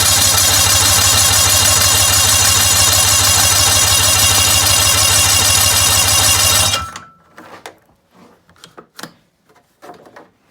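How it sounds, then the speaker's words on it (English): A 1995 snowmobile engine cranks loudly and steadily for about seven seconds with a fast, even churning rhythm, then cuts off abruptly without catching, leaving faint scattered clicks and rustles. "It sounds like it wants to start, but it doesn't get to that point."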